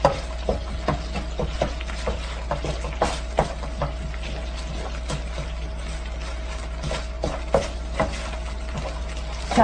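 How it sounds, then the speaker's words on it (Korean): Meat simmering in gochujang sauce with a little water in a pan, a steady low sizzle broken by repeated scraping and stirring strokes close by. "마저 고기를 익히며 농도를 맞추겠습니다"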